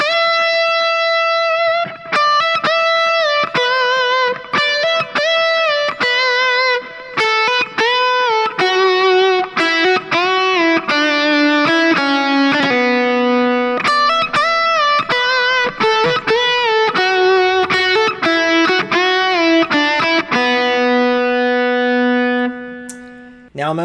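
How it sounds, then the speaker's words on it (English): An electric guitar plays a run of hammered-on notes followed by bends up from the note below, clean sustained phrases with a brief pause before the last note. "we're hammering on and then we're bending from the note below"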